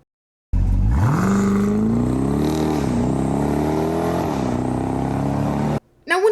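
A Dodge SRT performance SUV engine climbs into a loud, sustained rev and holds a steady, throaty roar for several seconds with small pitch dips, then cuts off abruptly near the end.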